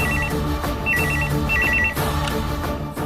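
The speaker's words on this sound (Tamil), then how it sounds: "யாராவது போன் எடுங்களே" Telephone bell rings loud and steady in repeated electronic trills, with no voices over it, in a quiet room at midnight.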